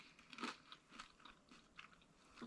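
Freeze-dried Vlasic dill pickle chips being crunched and chewed up close, several sharp crisp bites followed by softer chewing, no talk.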